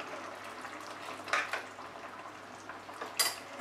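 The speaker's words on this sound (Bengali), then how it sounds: "ভালো করে মিশিয়ে দেব।" Ghee and garam masala are stirred into a potato and papaya curry in a pan, with quiet scraping and a couple of distinct metal clinks of a spoon against the pan over a soft simmer.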